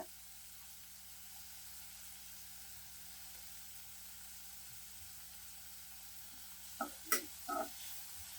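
Onions and curry leaves sautéing in a pan for a mushroom fry, a faint, steady low sizzle that ends in a few quick stirring clatters, with no talk.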